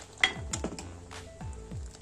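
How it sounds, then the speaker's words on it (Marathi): Milk kheer stirred in an earthen clay pot, giving a few soft scraping strokes of a spoon against the pot at a steady, unhurried pace, close and quiet, with a faint simmering sizzle underneath. "आणि अशी ढवळत राहायची"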